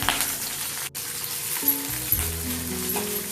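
Onions frying in a pan with dried red chillies, curry leaves and popped mustard seeds for Tamil arai keerai masiyal, a steady close sizzle with faint stirring and no talk.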